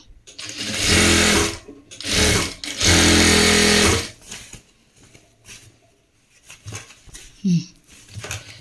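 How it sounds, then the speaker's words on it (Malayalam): Sewing machine stitching elastic onto a pair of shorts, running in three loud, steady bursts of about a second each, separated by short pauses, then quieter handling noises and a brief low thump near the end. "ഇലാസ്റ്റിക് വലിച്ചു പിടിക്കുക പിന്നെ സ്റ്റിച്ച് ചെയ്യുക"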